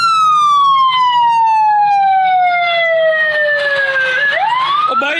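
A loud, close ambulance siren in traffic gives one long wail that slowly falls in pitch, then sweeps back up at the end, with road and engine noise beneath it.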